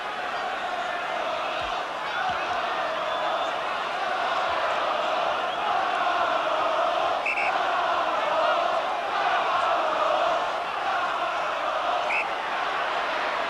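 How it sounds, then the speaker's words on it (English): Rugby league crowd at Headingley, Leeds, during the 1976 John Player Trophy final between Hull FC and Widnes: a steady, distant roar of many voices holding a constant level throughout, with faint shouts rising from the mass. "Crowd on both sides are not quite as vociferous as they were early on."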